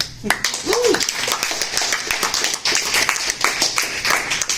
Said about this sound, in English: Let's give a solid round of applause to Kim.